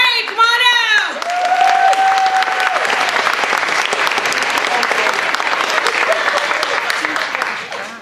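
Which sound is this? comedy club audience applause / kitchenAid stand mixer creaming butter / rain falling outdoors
comedy club audience applause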